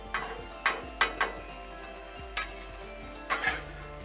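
A spatula scrapes and taps on a Blackstone griddle as broccoli and peppers get stirred, giving about half a dozen sharp metallic clinks spaced unevenly over a low hum.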